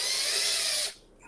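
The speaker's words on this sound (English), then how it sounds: "you just gotta let the drill work itself" A power drill bores into red plastic, a loud steady high whine for most of a second before cutting off abruptly into near quiet.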